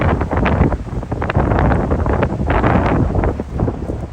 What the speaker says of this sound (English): Yeah, the wind is just way too strong today